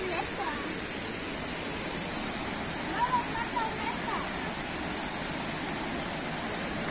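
Water flowing steadily at the Llobregat springs in Castellar de n'Hug, a constant broad rushing wash that fills the whole clip, with a few faint higher tones briefly surfacing midway.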